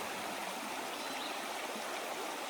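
Creek water flowing steadily along the Appalachian Trail, a continuous broad rushing wash with no talk, close and even throughout.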